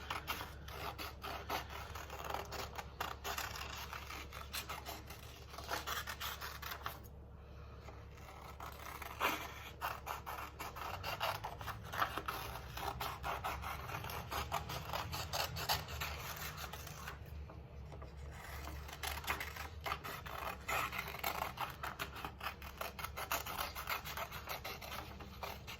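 Scissors cutting colored paper along a wavy line for a sun and moon collage, a steady close rustle of small snips and paper scratching that runs on with brief pauses.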